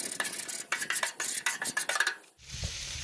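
A metal spatula scrapes and taps across a Blackstone griddle after Johnsonville hot Italian sausages, a run of quick rhythmic scrapes and clinks, close and fairly quiet, ending in a soft sizzle.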